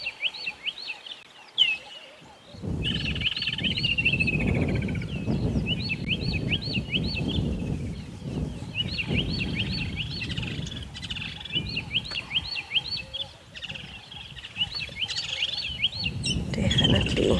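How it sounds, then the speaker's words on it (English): Red-billed buffalo weavers chatter in repeated rapid, rising squeaky calls from moderate distance on an evening safari, over a steady low rumble of background noise. "You can hear some more red-billed buffalo weavers again."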